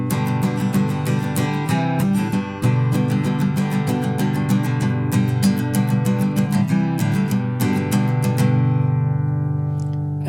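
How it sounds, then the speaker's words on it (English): An acoustic guitar strums a beginner version of a song intro, with bright rhythmic down and up strokes ringing loud and close throughout, no talking. "the strings I'm going to strum for the intro."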